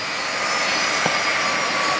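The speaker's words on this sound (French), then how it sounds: "Eh oui, c'est la patrouille de France." Jet engine roar from the Patrouille de France display team's aircraft, a steady broadband rush heard at a distance, continuous and unchanging for the whole two seconds with no talk over it.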